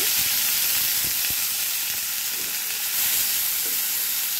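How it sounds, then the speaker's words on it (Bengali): Chopped onion hits hot oil left from frying fish, seasoned with two dried red chilies and black cumin, giving a loud, continuous close-up sizzle with occasional stirring clicks. "মাছ ভাজা তেলের মধ্যে দিয়ে দেব দুটো শুকনা মরিচ ফোড়ন, দিয়ে দেব কালো জিরা ফোড়ন, এরপর দিয়ে দেব পেঁয়াজ কুচি"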